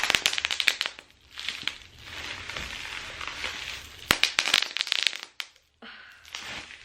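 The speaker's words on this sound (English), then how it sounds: "the satisfying feeling of popping bubble wrap? Like, that's what I'm doing right now." Bubble wrap is popped by hand up close, sharp crackling bursts and clusters of snaps with crinkling plastic between, pausing briefly near the end.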